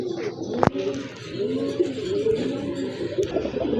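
A big-sized pair of orange-coloured Chila pigeons coo in repeated low, throaty rolls, close and steady, with one sharp knock near the start and a faint higher chirp late on.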